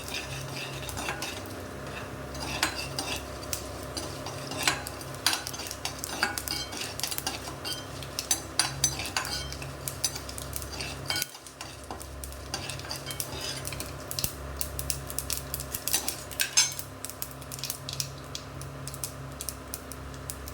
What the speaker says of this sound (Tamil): கடுகு பொரியுது. இப்போ உளுத்தம்பருப்பு கொஞ்சம் செவக்கட்டும்.